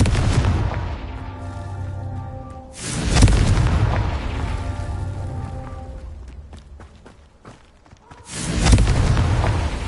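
A Confringo explosion spell in the video game Hogwarts Legacy produces a loud booming blast followed by a rumbling decay, then a second heavy boom near the end.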